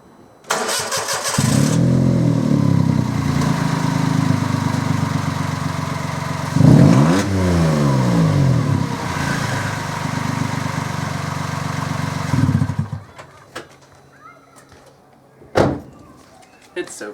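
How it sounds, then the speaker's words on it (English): A Toyota Yaris 1.0 VVTI fitted with a new thin 1.5-inch middle exhaust box starts up loud and raspy, idles with a throaty burble, and gives one sharp rev partway through. It shuts off after about twelve seconds, followed by a faint click. "So I might just start it up so you can hear the race car."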